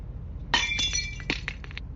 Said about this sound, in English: It's time to break the glass down